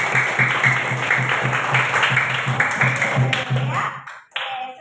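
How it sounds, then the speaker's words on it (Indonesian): Classroom children clapping their hands together, a rhythmic, fairly loud group clapping in steady beats for about four seconds, ending abruptly before a voice speaks. "Ayo tepuk tangan semuanya"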